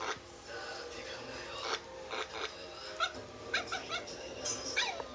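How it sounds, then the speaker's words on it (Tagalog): A small dog makes a series of short yips and whimpers, fairly close, scattered across a few seconds against a quiet room. "Si Gino, yung aso ko"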